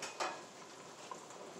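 A pot of boiling ham and potato chowder is slid forward on a stovetop, giving a short scrape and clank of metal over a steady bubbling hiss, with no talking.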